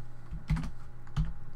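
Two brief bursts of keystrokes clatter on a computer keyboard while code is typed, close and distinct against a quiet background hum.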